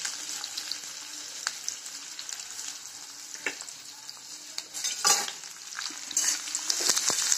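Onions hitting hot oil with mustard seeds and cumin for masala poha, a bright continuous sizzle with occasional sharp clinks and scraping of stirring in the pan, close and fairly loud.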